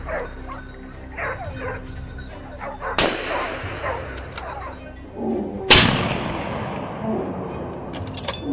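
Two loud, sharp rifle shots several seconds apart during a wild boar hunt in a frozen winter forest, each ringing out with a long decaying echo, with dogs barking and yipping throughout.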